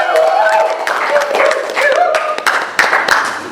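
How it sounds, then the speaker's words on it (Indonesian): Brief burst of audience applause at a Lampung theatre talk show, close sharp claps mixed with voices and lively chatter over a few seconds. "Oke, tepuk tangan dong buat."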